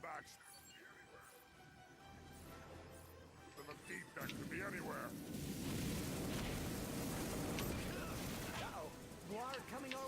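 Grenades going off in the PS4 Ratchet & Clank game, a burst of loud blasts and crackling combat noise from about four seconds on, mixed with game effects and a talking player.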